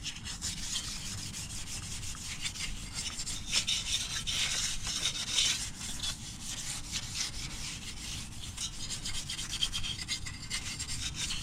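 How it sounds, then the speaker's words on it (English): Scrubbing oxidation off the wheels of a 1998 Mercury Mountaineer, a continuous close, gritty rubbing with steady back-and-forth strokes, fairly quiet, no voices. "Just takes out all the oxidation if you scrub it out."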